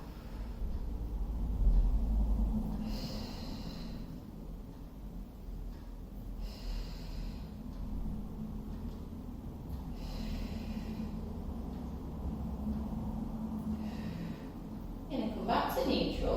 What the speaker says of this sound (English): we're breathing out as we split, maintaining neutral